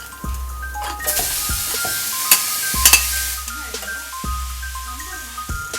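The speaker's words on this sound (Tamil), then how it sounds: "இப்போ நம்ம 3 அல்லது 4 நிமிஷங்களுக்கு இந்த கேரட்டை வதக்கியிருக்கோம்" Carrots sautéing in a pan for Tamil carrot chutney, a steady bright sizzle with repeated scraping stirs and spoon clinks, with a voice talking quietly underneath.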